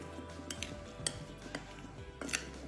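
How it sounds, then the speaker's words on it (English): Blueberries tossed with sugar and about two teaspoons of cornstarch in a bowl, a spoon clinking and scraping against the dish in irregular close taps with soft rustling between. "Then mix them all together until all the starch have been dissolved."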